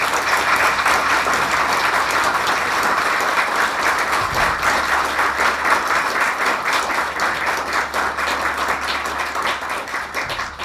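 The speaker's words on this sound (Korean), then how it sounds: "하여튼 다시 한번 뜨거운 박수 이렇게 주셨으면 감사하겠습니다" A lecture-hall audience applauds steadily at a professor's farewell lecture and retirement commemoration ceremony, a dense, sustained round of clapping from many hands that carries on loudly for the whole stretch.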